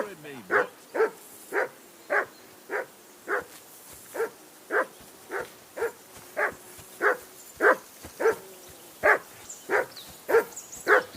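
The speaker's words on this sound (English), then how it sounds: "Call off that mutt of yours!" A dog in Kingdom Come Deliverance 2 barks in a steady, evenly spaced rhythm, about twenty sharp, loud barks in a row, close by and with no other sounds.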